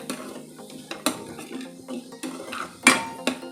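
Onion sautéing in a pan over medium heat, with a spatula scraping and clinking against the metal in irregular knocks over a faint, steady sizzle, close and alone.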